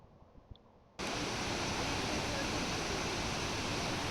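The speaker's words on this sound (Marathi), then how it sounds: "खाली धबधबा, वरती अजून 2-3 छोटे धबधबे, इथे पण छोटा धबधबा." Waterfall near Marleshwar temple in misty hills, a constant loud roaring rush that starts abruptly after a second of quiet and fills the rest of the clip.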